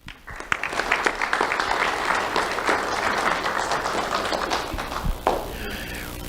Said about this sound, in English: Let's have a round of applause for Raul Diaz Ramos.